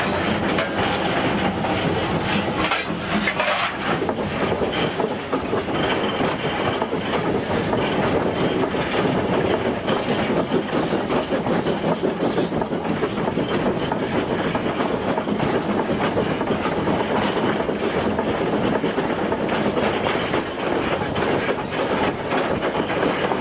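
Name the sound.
heritage railway train trundling uphill, engine slowing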